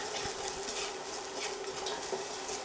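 Venison stew pieces browning in a pot, giving a steady, close sizzle with faint stirring scrapes throughout.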